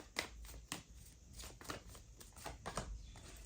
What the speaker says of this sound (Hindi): ठीक है, और शफल करते हैं,